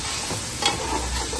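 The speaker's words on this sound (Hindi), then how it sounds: "अच्छे से भून लेंगे इसको।" Whole spices, black cardamom, cloves, black pepper and cinnamon, fry in hot oil in a pan with a dense, continuous sizzle. A short scrape of stirring sounds close by.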